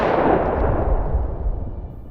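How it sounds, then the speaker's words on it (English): A drone-dropped bomb explodes in a war zone as one loud, close blast whose boom rolls off and decays over about two seconds. "the drone drops another bomb."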